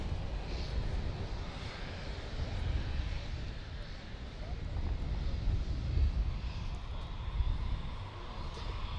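Gripen fighter jet landing and taxiing at an air show, a steady distant engine roar with broad wind-like rumble holding level throughout, no talk over it.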